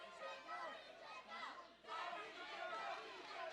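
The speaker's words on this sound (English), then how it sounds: "And listen to the crowd there trying to get behind Douglas James" Wrestling crowd at a live match, a steady roar of chatter and cheering voices rising to back a wrestler caught in a dragon sleeper hold, continuous and fairly loud throughout.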